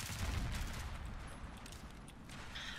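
FAMAS rifle fire in Battlefield 4 team deathmatch, a faint, steady stream of rapid shots mixed with distant battle noise throughout.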